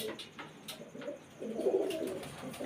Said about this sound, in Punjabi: ਕਬੂਤਰ ਆ ਬੈਠੇ